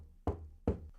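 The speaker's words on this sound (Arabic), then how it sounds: "أنا بدي صوت لطرق باب، مباشرة بكل بساطة بعمل صوت طرق باب" Two firm knocks on a door, spaced about half a second apart, close and distinct with brief resonance in a quiet room.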